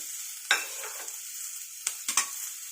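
Malabar spinach fries in a little oil with a soft, steady sizzle, broken by a few brief spatula scrapes and clinks, close and fairly quiet.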